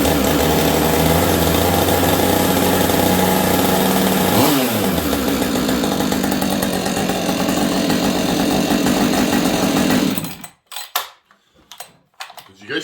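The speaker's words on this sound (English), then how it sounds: "These auto tunes, you gotta let them run on high idle for just a second." A chainsaw with an auto-tune carburetor runs loud and steady at high idle for about ten seconds, its pitch dipping briefly partway through, before cutting off to near silence with a few faint knocks.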